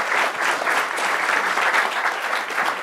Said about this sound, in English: Let's give them a big round of applause for the time out here.